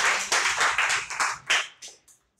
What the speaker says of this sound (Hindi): सही है तो तालियां बजा दीजिए भाई।